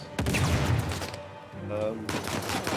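Gunfire in the video game Uncharted 4, with sniper fire taking place, sounds as a few sharp loud shots and bursts of rapid fire at close range, with a voice speaking partway through.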